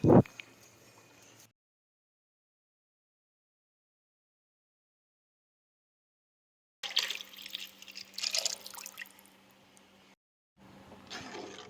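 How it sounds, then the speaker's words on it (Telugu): Soaked tamarind water is poured into a pan of fish curry, a splashing, trickling pour lasting a few seconds after a silent gap, followed by a shorter second pour. "ఇప్పుడు నానబెట్టిన చింతపండు నుంచి వాటర్ తీసుకొని పోసుకోవాలి."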